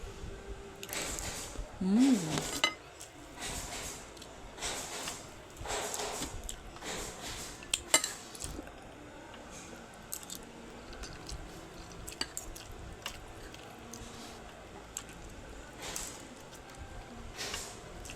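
Quiet, close eating noises: wet chewing and squishing with occasional soft clicks, plus a few faint snorts and brief bits of voice.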